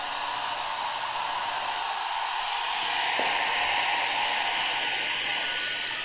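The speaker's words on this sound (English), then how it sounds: "Let's add this hair dryer." A hair dryer blowing on power from a BLUETTI backup power station gives a steady, loud broadband whoosh that runs the whole time with no speech, its airflow growing slightly louder partway through.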